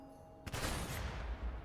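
Loud burst of video game gunfire erupts after a short quiet start and keeps going as a dense, sustained rattle of rapid shots, close and full.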